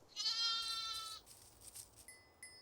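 A sheep bleats once, a long wavering cry close by, followed by fainter bleats and scattered farm sounds.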